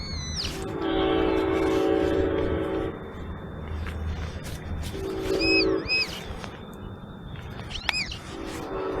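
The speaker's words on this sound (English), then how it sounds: "Here comes a train, so it's going to get noisy." A short Amtrak passenger train rumbles steadily past nearby, its horn sounding in several loud blasts, with faint bird chirps heard over the noise.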